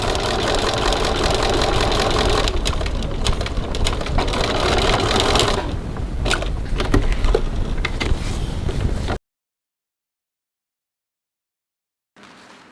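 A sewing machine stitches down a wallet, a loud, close mechanical whir running for about nine seconds with a brief change partway through, then stopping into silence before a short burst resumes.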